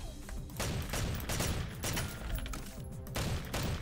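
Assault rifle gunfire in the video game Madness Interactive Reloaded: dense, continuous bursts of rapid shots with booming impacts, fairly loud and unbroken throughout, with no talking.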